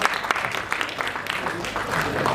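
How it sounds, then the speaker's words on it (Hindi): Audience clapping at the Hindustan Ratna Awards 2024 ceremony, a steady dense wash of applause from a crowd indoors, continuous and fairly loud throughout. "ज़ोरदार ताली हो जाए।"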